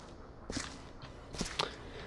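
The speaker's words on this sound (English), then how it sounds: "I got me some bloody footsteps" Footsteps in a video game, a few soft, separate steps with a slightly squelchy scuff, quiet and close against a low ambient background.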